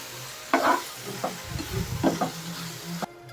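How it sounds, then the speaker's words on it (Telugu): Fried tamarind paste being stirred into cooked rice for pulihora, a spoon scraping and mashing in a few soft bursts with a low background hum, no talking. "ఇప్పుడు అన్నంలో చింతపండు మనం వేయించుకున్నది వేసి కలిపేద్దాం"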